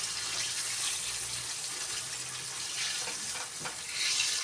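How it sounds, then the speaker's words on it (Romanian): Steady, dense sizzling of zander fish frying in a hot pan, a continuous crackling hiss with a few brief clinks near the end. "Ăsta peștele nu trebuie mult prăjit."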